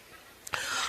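A man coughs once, briefly and close, during an Aceh religious sermon while he is feeling unwell, a short sharp burst followed by low room hiss.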